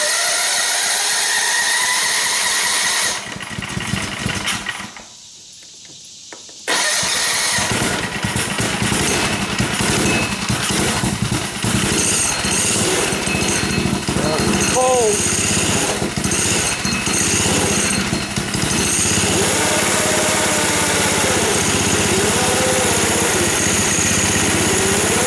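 Go-kart engine clattering loudly, dropping to near silence for a couple of seconds, then firing up and running rough and steady at close range with a buzzing, jackhammer-like chatter to the end.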